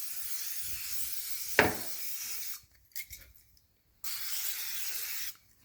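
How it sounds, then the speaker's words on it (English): Cooking oil sprays into a 5-quart Insignia air fryer basket in short hissing bursts, close and fairly soft, with a brief knock and light handling noises between the sprays. "Spray a bit of this oil just so it doesn't"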